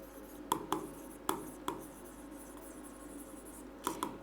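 Marker or chalk strokes on a classroom board: a few sparse, sharp taps and scratches spaced apart over a faint steady room hiss, close and fairly quiet, with no voices.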